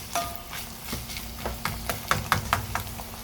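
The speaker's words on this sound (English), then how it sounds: "you will keep stirring to avoid the meat getting lumpy" Mince meat fries in a pan while a utensil stirs and scrapes through it in a quick run of rhythmic strokes over a soft background sizzle.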